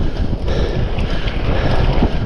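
Strong wind on a hilltop along the Cleveland Way near Boltby Forest buffets the microphone with a loud, continuous low rumble and roaring gusts, no speech.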